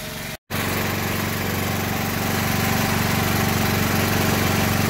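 A portable generator engine runs steadily after a brief cutout at the start, a loud continuous mechanical drone with constant vibration, close by and alone.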